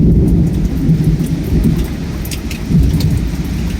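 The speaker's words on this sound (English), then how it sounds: "That thunder is rolling." Deep rolling thunder rumbles continuously through a rainstorm, loud and low, with a steady patter of rain and a few sharp drips on top.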